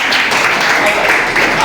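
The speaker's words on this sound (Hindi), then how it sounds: "ताली बजाइए इनके लिए" An audience at a road safety and theatre training event breaks into applause, a dense crowd of clapping hands heard close and continuous, with a voice speaking over it.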